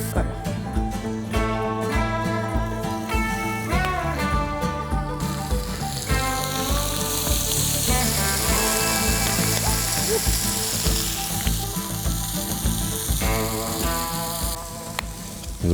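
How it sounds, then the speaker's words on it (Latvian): Meat sizzles on a grill with a continuous crackling hiss, fairly loud and close, while music with rhythmic notes plays over it. "Ko, liksim tad cepties to gaļu?"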